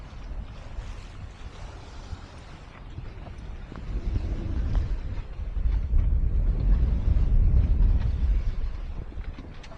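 Wind roars over a sailing boat crossing from Bangor to the Isle of Man in about 17 knots of breeze, a broad rumbling gust that swells louder midway with water wash beneath.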